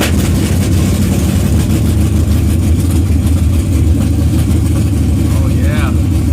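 A GM LQ4 V8 running on open headers in a 1987 V10 truck, a loud, steady, rumbling idle close to the microphone, with someone talking over it.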